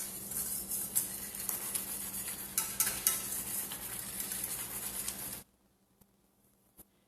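A pan of cream sauce bubbles and sizzles steadily as water boils off, with crackling spatters, close and fairly loud, then cuts off abruptly to near silence with a faint tap.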